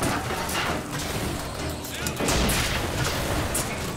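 Enemy gunfire in Bioshock Infinite, a dense, continuous clatter of shots and booms mixed with game ambience, steady and loud throughout.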